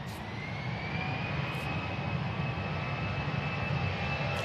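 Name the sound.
EasyJet jet airliner engine at Manchester Airport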